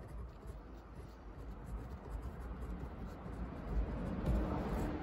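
A pen writes a name on a small sheet of paper, giving a soft continuous scratching and rubbing close to the microphone that grows slightly louder toward the end, with no talking.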